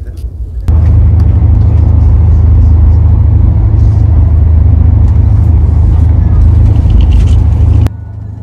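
The Arunachal AC Express running at 130 km/h on the Delhi–Kanpur route, a loud, steady low rumble and rushing roar heard from inside, starting abruptly and cutting back near the end.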